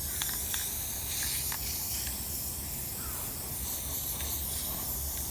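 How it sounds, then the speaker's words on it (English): Steady hiss of Rust-Oleum gray primer sprayed from an aerosol can onto a homemade lightweight beach scoop, a continuous close spray running the whole time with a few faint taps in the background and no talk. "we're just going to give it a squirt of this stuff. Not that it's going to do much. It's Rust-Oleum gray primer."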